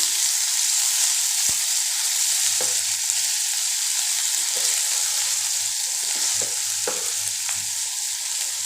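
Chopped onion fries in oil until lightly browned, a constant close, bright sizzle with occasional utensil scrapes and taps as it is stirred.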